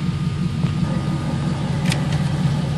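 A Nissan V8 swapped into a vehicle idles steadily at about 1400 rpm, a close, even rumble that carries through the whole moment with no speech.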